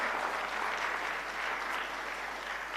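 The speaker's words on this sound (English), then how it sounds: "A bigger round of applause." An audience at a media summit session in South India gives a round of applause, a continuous wash of many hands clapping at moderate level without pause.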